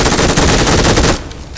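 Rapid automatic gunfire blasts loud and dense in a video game, a continuous rattling burst that cuts off abruptly near the end.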